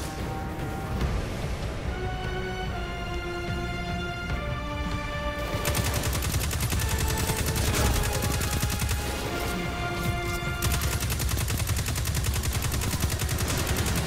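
Video game gunfire from Destiny 2 rattles almost nonstop in dense automatic bursts, layered with tonal weapon and effect sounds, loud and continuous throughout.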